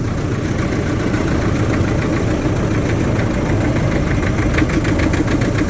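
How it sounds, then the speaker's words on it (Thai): Truck engine labouring under load with the power take-off engaged to raise a dump bed, a steady loud mechanical drone with knocking vibration throughout, no voices. "โอ้เสียงเครื่องโหลดเลยอ่ะ"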